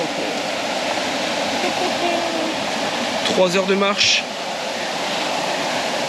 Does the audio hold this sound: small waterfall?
yes